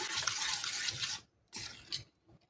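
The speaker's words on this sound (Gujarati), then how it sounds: "તો થોડું પાણી ઉમેરીને આપણે અહીંયા બધું સરસ મિક્સ કરી લઈશું।" Running water pours and splashes in two bursts with a brief quiet gap between, fairly faint, as water is added to a masoor dal (red lentil) batter and mixed.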